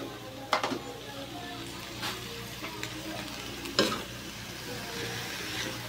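Shredded cabbage, salted and seasoned, fries in a pan while being stirred, a close sizzle punctuated by a few loud scraping strokes of the utensil, with a voice talking over it at moments.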